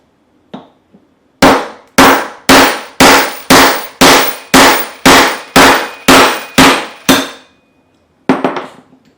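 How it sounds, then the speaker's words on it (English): A 2-pound brass hammer punches a hole in a one-ounce copper coin: about a dozen sharp metallic strikes in steady rhythm, loud and close, each ringing briefly, followed by a lighter clatter. "now I'll punch the hole, as always using the 2-pound brass hammer"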